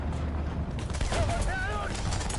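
Machine-gun fire rattles in War Thunder beneath a voice announcement from the game, the bursts fairly low in the mix behind the spoken line.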